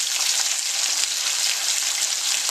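Green beans dressed with warm oyster sauce sizzle steadily in a hot sauté pan, a close, even frying hiss that holds without a break and with no voices.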